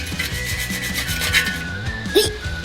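Close, rapid scratchy scrubbing of a brass wire brush rubbing rust off a bicycle part, continuous back-and-forth strokes with no talking.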